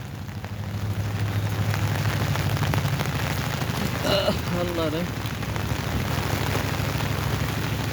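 Rain falls on a riverbank with a steady broadband patter and low rumble throughout, while a voice exclaims briefly partway through.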